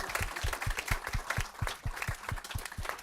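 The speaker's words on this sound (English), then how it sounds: "let's another huge round of applause for all these amazing films" An audience at a community documentary film screening gives a round of applause, rhythmic, fairly quick claps that sound like a modest crowd, moderately distant and steady throughout.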